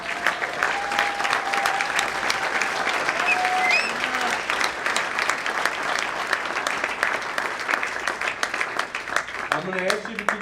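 An audience at the Bobby Bonds Memorial Foundation golf outing applauds as the foundation's founder stands, loud sustained crowd clapping for about ten seconds with a few voices and whistles mixed in.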